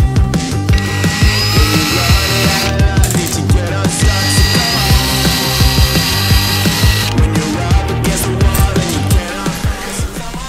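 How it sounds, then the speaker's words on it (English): A small power drill whines loudly and steadily while drilling a hole in a toy car wheel, pitch shifting as it bites, with grinding, rattling texture throughout. "so I have to drill a new one inside"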